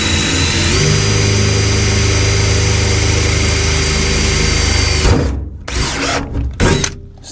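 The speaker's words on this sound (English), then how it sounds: "I'm drilling with my feminine side," A power drill bores holes in a Volvo VNL860 truck while its diesel engine idles, the drill whining steadily for about five seconds before stopping in a few brief, choppy bursts, close and loud.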